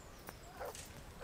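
A couple of faint, short dog barks in the video game Kingdom Come: Deliverance sound over a quiet, hissy background, spaced a fraction of a second apart.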